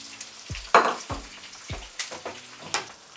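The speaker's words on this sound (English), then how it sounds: "so to start this, I'll put some coconut oil inside my pan. Okay, so now I'll add the onions." Onions tipped into a pan of hot coconut oil, giving several short bursts of sizzle and clattering stirring, close by, with no talking.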